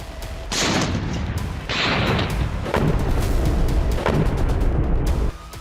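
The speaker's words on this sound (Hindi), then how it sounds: "टैंक और तोपें गरज रही है।" Tanks and artillery guns firing in a tense border standoff, several loud booming blasts in succession, each with a rumbling tail, close and heavy, with no talking.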